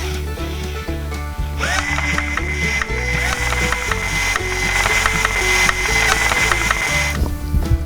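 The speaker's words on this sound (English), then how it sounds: "Hopefully they'll screw into this soft wood easily." A screw is driven into soft wood as part of building a table. It makes a steady mechanical grinding and ratcheting that runs for several seconds at close range, and no one speaks.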